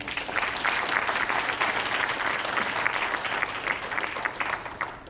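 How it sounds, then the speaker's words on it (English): A sustained round of audience applause at a storytelling event on integration, dense and steady clapping from a sizable crowd lasting throughout and tapering slightly at the end. "another round of applause to Maurice, please"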